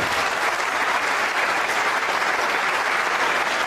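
An audience at a nine-ball pool match applauds a player from Chinese Taipei after a shot: continuous, even clapping from many hands, close and fairly loud, with no talk over it.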